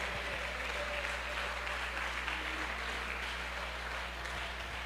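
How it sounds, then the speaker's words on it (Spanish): A church congregation applauding during a Spanish-language sermon, a dense, even wash of clapping from many hands that carries on steadily throughout at moderate, slightly distant level. "Alguien lo aplaude al Señor con todo el corazón."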